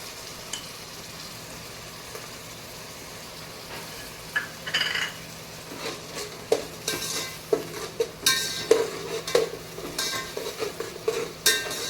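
Ginger garlic paste and tomato puree go into a hot pan for chicken dum biryani, giving a low sizzle followed by irregular spoon stirring and scraping clinks against the metal, close and fairly loud.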